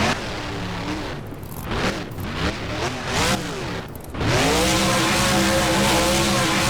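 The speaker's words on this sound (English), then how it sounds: "Pretty big donuts by Monster Mutt Rottweiler." In the BeamNG video game, a monster truck spins donuts with rising, wavering engine revs and tire noise, dropping briefly before a loud sustained roar returns and holds to the end.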